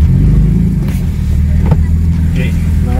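A Mercedes C300 with an X-pipe exhaust mod rumbles loud and close in a deep, steady drone with slight rises in pitch, while people talk over it.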